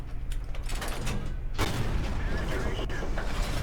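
Tank cannon fire in World of Tanks, where the STB-1 tank is in battle: a loud, heavy boom rolls into a dense rumbling roar that fills the whole clip, with a voice talking underneath.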